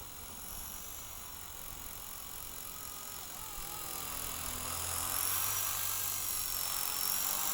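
A small radio-controlled model helicopter whines steadily, its rotor buzz growing gradually louder and nearer toward the end, with no voices.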